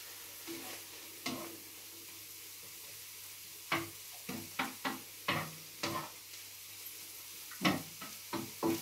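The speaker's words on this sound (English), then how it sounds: "Mmm, lovely and sizzly." An omelette frying in a pan gives a soft, steady sizzle, broken by repeated light scrapes and taps of a utensil, some in quick succession, all fairly quiet and with no talking.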